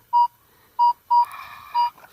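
A handheld metal detector sounds a strong target signal near a lake shore: four sharp, loud, evenly pitched electronic beeps at irregular spacing, with a faint hiss between them.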